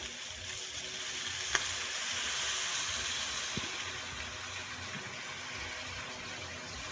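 Chicken liver and gizzard adobo sizzles steadily in a pan as soy sauce goes in, a continuous fry with a faint click or two and no talking.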